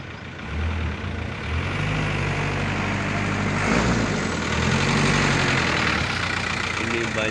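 Heavy lorry engines idle and rumble in the Inanam industrial area of Kota Kinabalu, Sabah, a steady loud low drone that swells slightly midway as traffic passes close by.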